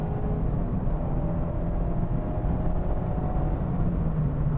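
A Mazda MX-5 ND engine drones steadily from inside the car while driving, a low, even hum without gear changes or revving.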